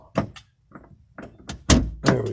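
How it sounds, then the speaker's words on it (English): A truck's back door is unlocked and opened while hauling firewood: a series of separate clicks, knocks and heavier thunks, close by, the last two the loudest. "unlock the back door"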